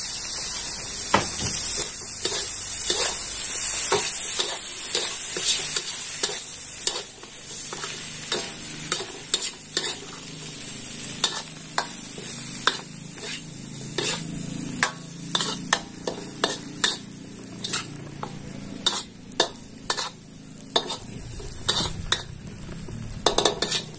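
Tomatoes stir-frying in a hot pan for sambal petai udang ebi, a steady loud sizzle broken by repeated sharp clinks and scrapes of a spatula against the pan.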